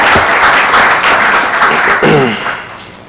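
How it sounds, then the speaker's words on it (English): Conference audience applauding a committee at an AFRINIC meeting, loud continuous clapping in a hall that begins to fade near the end, with a brief voice partway through. "may I ask that we give the committee a round of applause"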